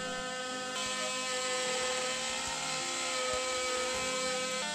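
A router cuts tenons on a wooden breadboard end for a conference table, a steady high whine whose pitch dips briefly as the bit bites into the wood.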